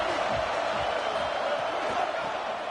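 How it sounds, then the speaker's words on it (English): A stadium crowd at a football game gives a broad, steady roar of cheering and whooping, a continuous wash of voices at constant loudness with no individual speech standing out. "This crowd ready to make its presence known."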